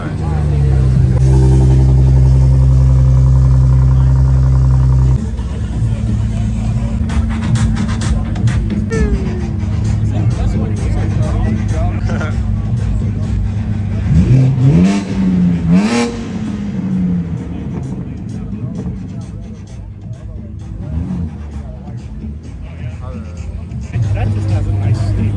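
At a modified car meet, loud aftermarket exhausts rev hard in a strong opening burst, then settle into a lower rumble with further revs, engine noise filling the scene while people talk nearby.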